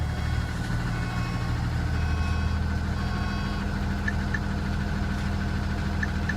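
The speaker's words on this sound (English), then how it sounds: "So we're going to start it up." A Cummins 5.9L diesel truck engine with a TSS code 0687 low-power fault fires up and settles into a steady, rumbling idle, a constant low throb close by with faint high chirps over it and no talk.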